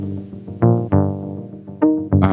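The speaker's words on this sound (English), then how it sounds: "here is a synthesizer who's playing a little sequence" Synthesizer in VAudio playing a short sequence of plucked, tonal notes, a few separate attacks that ring and decay over a couple of seconds, clear and up front with no talking.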